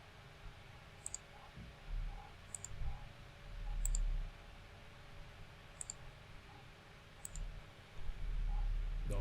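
A computer mouse clicking while modelling a church project in Revit, sharp isolated clicks spaced every second or two over a low background hum.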